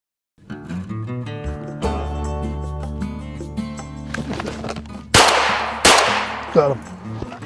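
Shotgun fired while rabbit hunting with beagles outdoors: two sharp, loud blasts about a second apart, following a steady tonal background.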